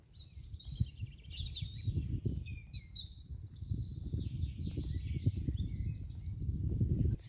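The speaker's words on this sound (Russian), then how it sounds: "Здесь много разных птиц поет сейчас." Several birds sing high in a forest, a tit among them, with scattered chirps and trills over a low rumbling background.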